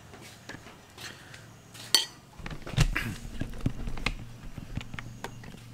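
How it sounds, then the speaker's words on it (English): A spoon clinks against dishes while spicy salad is spooned onto rice at a Chinese mountain street food stall in northern Thailand, with scattered light taps and one sharper clink amid quiet background clatter. "Just spoon some of that salad"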